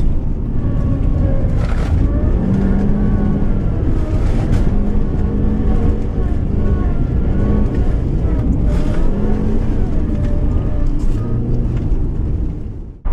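A 400 hp Subaru Impreza WRX STI rally car on studded winter tires drives hard around an ice track, its engine roaring continuously with rising and falling revs and gear changes, loud and close throughout.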